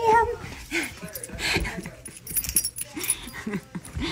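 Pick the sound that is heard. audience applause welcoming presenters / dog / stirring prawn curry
dog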